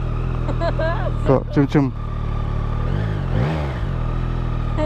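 A Yamaha MT-09 SP motorcycle idles steadily after a cold start, a close, low engine drone with a slight rise in revs near the end, while people talk over it.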